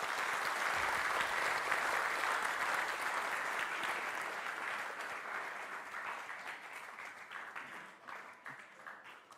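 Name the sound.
church audience applause, clap offering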